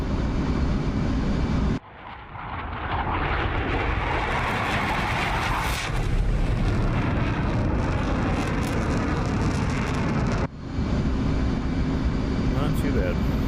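An F/A-18 Hornet fighter jet makes a flyby in the DCS flight simulator: a loud, dense, continuous engine roar fills the clip, briefly cutting out twice.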